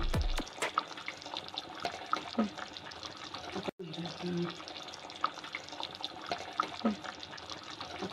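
Fish curry simmers in a pot in a home kitchen, giving a steady low bubbling and gurgling with small wet pops, moderately close and fairly quiet, with no voices over it.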